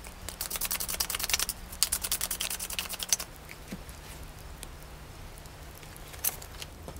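Tarot cards shuffled and drawn by hand: a quick run of soft, papery riffling clicks and pats close up, easing off into faint scattered taps against a low steady hum.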